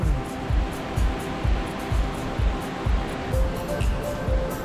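Waterfalls spilling into mountain pools in the wild Val Grande give a steady, close rushing roar, with regular low thumps pulsing about twice a second throughout.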